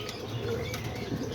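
Pigeons in a loft flutter their wings in a short, close burst of flapping, soft and brief.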